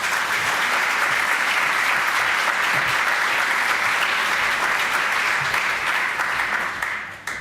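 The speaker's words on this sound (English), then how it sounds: "So give her a big applause" Loud, sustained applause from a large audience at an evening talk on healthy habits, steady clapping filling the hall for several seconds before tapering off near the end.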